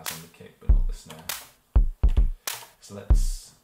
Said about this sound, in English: hear the effect it has on the kick but not the snare.